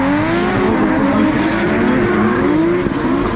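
Drift cars at Mondello Park, Ireland, screaming through drift initiation with rising, wavering engine notes and tyre squeal, loud and continuous with no talking.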